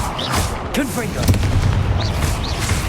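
A Confringo blasting spell explodes during Hogwarts Legacy video game combat, a loud, sustained booming roar with repeated impacts layered over other battle effects, while a voice speaks over it.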